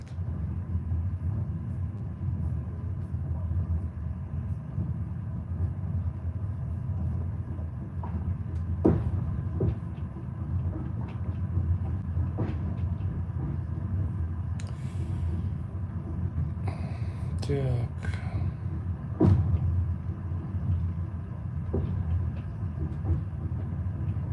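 Riding aboard a train: a steady low rumble of the carriage with occasional clicks and rattles, a faint squeal near the end, and no talking.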